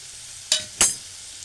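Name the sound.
tomatoes sizzling while cooking in a pan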